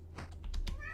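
Pet cat meowing close by, a short clear meow following a few soft chirps in a quiet room with a low hum.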